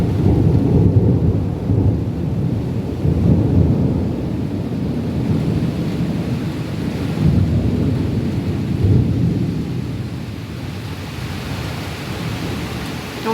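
A heavy thunderstorm in Odesa pours down as dense, continuous rain, while deep rolling thunder rumbles loudly throughout with no voices.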